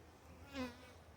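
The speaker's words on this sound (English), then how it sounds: "Soothing bee video." Honey bees buzz faintly, with one bee passing close in a brief swelling drone over a steady low hum.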